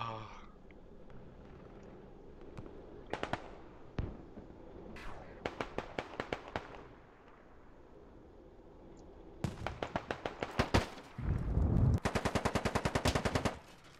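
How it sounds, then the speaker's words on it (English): MG42 machine gun fire in a video game firefight: several short bursts of rapid shots, then longer, louder sustained bursts near the end, mixed with other gunfire and occasional voices. "the MG42 just run down me"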